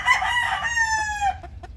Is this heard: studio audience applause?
no